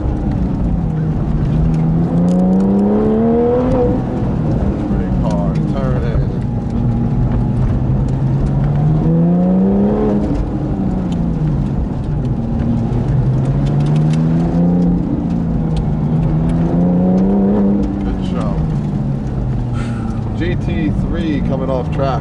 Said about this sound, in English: GT3 coming off track. GT3 coming off the track.